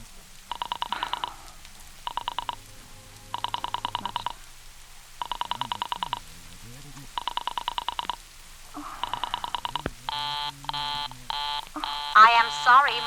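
Telephone dialing in a classic radio drama, a call to a Murray Hill number, comes as repeated bursts of rapid rhythmic clicks and tones in a quiet room, ending with a busier run of signal tones.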